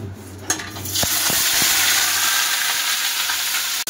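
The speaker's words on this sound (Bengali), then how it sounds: "তেলটা আমার গরম হয়ে গেছে, এবারে আমি পটলটা ভেজে নেব" Pointed gourd (potol) frying in hot oil, a loud, steady close-up sizzle with a few brief clinks of stirring through it.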